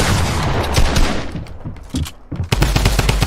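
A drum gun firing in a video game, with dense rapid bursts of loud shots that thin briefly in the middle before resuming hard and fast.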